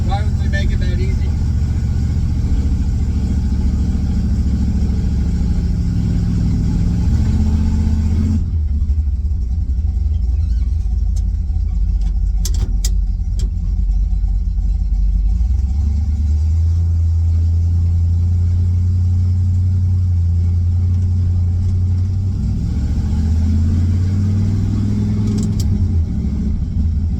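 A truck engine drones and revs while driving without a downshift, a loud low rumble that holds steady, then climbs to a strained higher pitch in the cab, with occasional clicks and sounds of movement.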